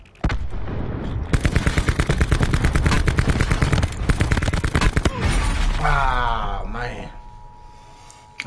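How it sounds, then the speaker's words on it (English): Rapid video game gunfire from a weapon aimed with iron sights, loud sustained bursts of automatic shots that stop abruptly, followed by fainter game sounds and a brief voice. "Shooting on my iron sights."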